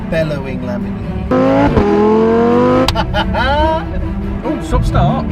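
Lamborghini Gallardo Performante engine bellowing while driving, a loud revving roar that rises in pitch through gears with sharp shifts and crackles, close and prominent, with people talking over it.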